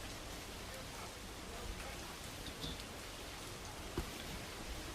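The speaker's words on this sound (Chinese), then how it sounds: "这外边大雨哗哗的" Heavy rain pours down outside a parked car during a storm, a steady dense hiss of drops drumming on the car body with a few louder taps, continuous and fairly soft throughout.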